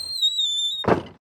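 Cartoon door-opening sound effect, a high thin creak-like whine held for most of a second, then a short thudding burst as the door swings, close and clear with no voices.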